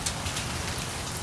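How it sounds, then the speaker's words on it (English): Heavy rain pours down outdoors in a dense, steady hiss of drops hitting surfaces, loud and continuous with no voices. "It just started pouring down rain out of nowhere."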